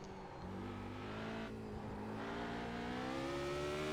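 A race car engine at full throttle in a sim racing game, driven at Suzuka, rising steadily in pitch as it accelerates, loud and continuous with no pauses.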